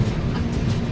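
A Kerala passenger train rolls along a single-track railway through Kerala at evening, a steady low rumble of wheels and wagons running continuously and fairly close, with no one talking.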